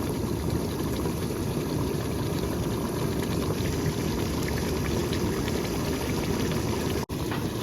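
Water boils at a steady rolling bubble in a cooking pot on the stove, a continuous dense roar that stays level throughout, broken by one brief dropout near the end.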